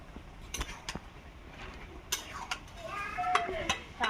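Poppy seed paste being stirred into shukto in a pan, with scattered clinks and scrapes of a spoon against the metal, close and intermittent over a quiet kitchen background.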